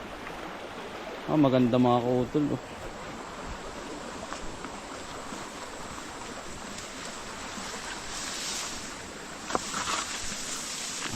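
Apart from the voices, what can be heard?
flowing stream water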